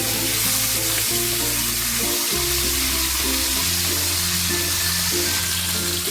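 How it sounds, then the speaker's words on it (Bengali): Pieces of katla fish fry in oil in a pan, giving a loud, steady sizzle that fills the clip without pause, with a low background hum underneath and no voices. "মাছগুলো ভাজা হয়ে গেছে এবার মাছগুলোকে আমি নামিয়ে"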